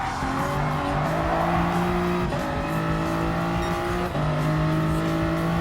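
A race car in Gran Turismo Sport roars steadily at high revs with a sustained engine drone, briefly dipping twice as it shifts and accelerates into a turn, with faint tire squeal underneath.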